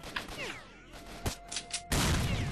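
A grenade blast in the STALKER: Shadow of Chernobyl video game at an army base, preceded by bursts of gunfire and whooshes and ending in a loud sustained explosion roar.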